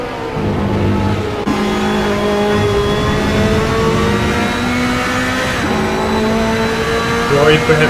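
A GT2 race car engine in Assetto Corsa at Mugello roars loud and close for the whole stretch, pitch climbing steadily through the gears down the main straight, with a commentator talking over it.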